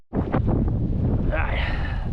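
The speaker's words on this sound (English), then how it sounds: "this wind's pretty rough" Strong wind at a beach in Lovers Key State Park buffeting the microphone in a loud, rumbling roar that fills the whole short moment, with a voice partly heard underneath.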